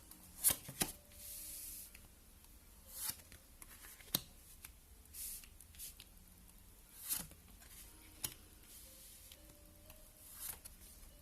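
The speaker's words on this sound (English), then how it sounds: "now I'm just going to cut the deck" A deck of tarot cards being cut and handled makes soft, quiet card slaps and riffling shuffles in scattered bursts, close and faint, with no talking.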